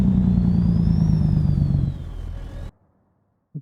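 A modded truck engine in American Truck Simulator, built from real truck recordings, drones as a low, steady diesel rumble with a rising and falling whine above it, then cuts off abruptly into near silence.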